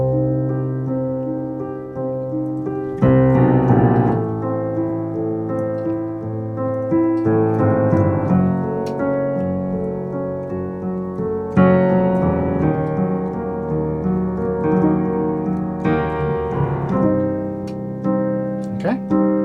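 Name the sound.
piano playing scary chords moving down in semitones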